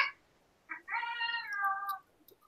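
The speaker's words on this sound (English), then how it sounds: "the cat and the dog are getting into it" A house cat meows during a scuffle with a dog indoors, a short chirp followed by one longer, clear meow, near and fairly loud with no talking over it.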